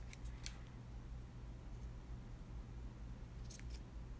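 Scissors snip through the extra cotton fiber support material of a red and black cable, a few faint crisp cuts near the start and again near the end over quiet background.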